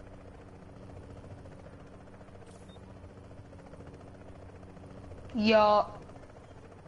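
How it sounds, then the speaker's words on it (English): In the video game Tom Clancy's The Division, a helicopter makes a steady, low droning hum that runs the whole time at a fairly faint level. Someone briefly speaks over it near the end. "I hear a helicopter."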